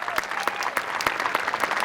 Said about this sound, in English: Yep, more applause there.